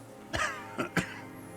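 A man coughs three times in short bursts in Disco Elysium, one and then two close together, fairly quiet against a low steady background hum.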